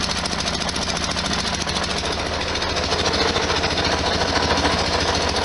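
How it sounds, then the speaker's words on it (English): A 1973 Volkswagen Super Beetle engine with an exhaust gasket leak chugs nearby with a rapid, rhythmic puffing rattle, steady throughout and close to the listener. "there's a big puff coming out over there on one of these sides"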